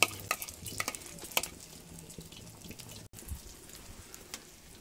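Beaten eggs frying in a pan give a soft, fairly faint sizzle near at hand, with a few sharp utensil clinks early on.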